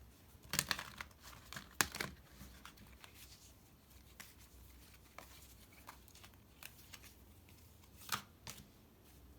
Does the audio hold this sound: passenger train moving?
no